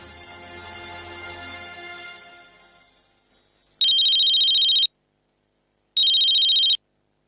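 A telephone rings during a phone call: two loud, near electronic rings about a second long each, separated by a pause of silence, following a fading stretch of music.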